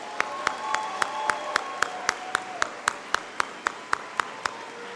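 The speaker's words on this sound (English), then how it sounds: "Let's give them a round of applause." A crowd at an 8th grade promotion ceremony applauds with soft, diffuse clapping. A single near pair of hands beats out a steady, evenly spaced clap rhythm above the crowd.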